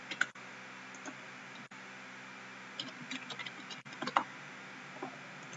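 A computer mouse clicks in a 3D software view, giving a few light, sparse clicks over a quiet background hum with no talking.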